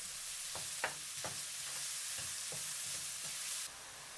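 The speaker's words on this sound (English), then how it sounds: "in a pan with the oil, put the onions. Add 1 teaspoon of salt. Turn to high heat. Occasionally stir for 4 minutes." Onions with a teaspoon of salt sizzle steadily in oil in a pan over high heat for chicken tikka masala, with a spoon scraping and stirring at irregular intervals; the frying hiss is continuous and close.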